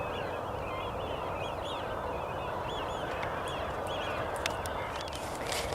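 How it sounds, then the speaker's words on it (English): A large flock of geese and other waterfowl rises from a marsh reserve, honking and calling over a dense, steady rush of wingbeats and wind, loud and continuous throughout. "the birds just got up"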